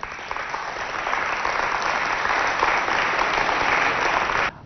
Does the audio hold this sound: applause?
yes